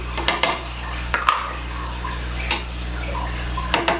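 A utensil stirs yeast in warm water for pizza dough, with repeated clinks and scrapes against a bowl over a steady background hum, heard close and without talk.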